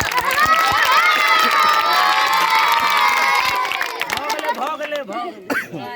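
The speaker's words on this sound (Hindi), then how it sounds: "ताली बजा दियो हिनका।" A large crowd gathered for a Maithili comedy show cheers and shouts loudly at close range, with children's shrieks in the mix. The din swells, then thins toward the end, leaving scattered voices.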